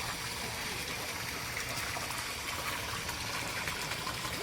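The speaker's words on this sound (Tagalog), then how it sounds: "Ang lakas po ng tubig yan." Water rushes steadily from the casing of a newly drilled deep well, a constant hissing gush with a faint low machine rumble beneath it, heard alone without speech.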